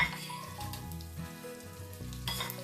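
Thyme, celery, onion, bay leaf and garlic fry in a pan with a steady crackling sizzle, close and fairly quiet, with a brief burst of louder spattering near the end and no talk.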